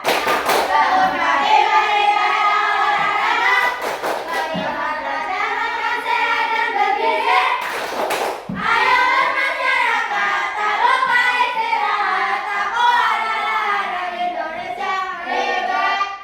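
Indonesian schoolchildren in a classroom sing a rhythmic chant together and punctuate it with sharp bursts of group hand claps. The voices are loud and close, and the claps land at intervals between the sung phrases.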